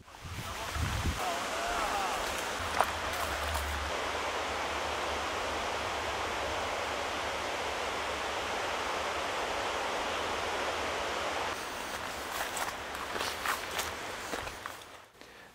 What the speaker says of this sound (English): The water is clearly racing towards its goal.